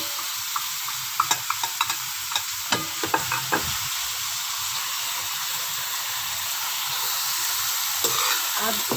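Spices for karela payaz, a bitter gourd and onion dish, fry in a pan with a steady close sizzle and hiss, broken by a few soft taps and stirring knocks early on.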